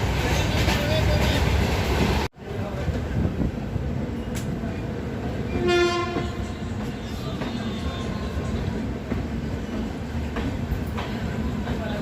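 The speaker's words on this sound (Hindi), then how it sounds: "हमारी ट्रेन पहुंच चुकी है अपने 5वें हॉल्ट एंड हमारे पहले हॉल्ट पे शकूर बस्ती" The Gorakhdham Express passenger train rolls into Shakur Basti station, a steady loud rumble with a sharp clunk, faint rhythmic wheel clatter and a brief squeal, while a voice talks over it.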